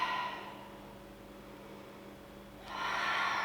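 Soft exhalation during a Pilates exercise, a faint airy breath that fades in the middle and swells again near the end, heard alone with no talking.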